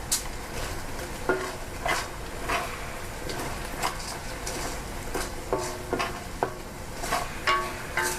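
Pork ribs stir-fried with coriander root sizzle in a pan, broken by repeated scrapes and clinks of a spatula on metal at an uneven rhythm, close and fairly loud, with no talking.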